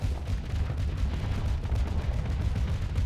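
Auto cannons fire on a ship in a space combat game, a dense, continuous low rumble of rapid booming shots that pound on without a break.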